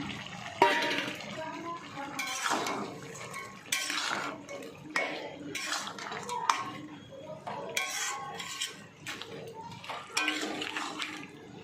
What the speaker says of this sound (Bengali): এবারে ভেজে রাখা মাছটা দিয়ে দিচ্ছি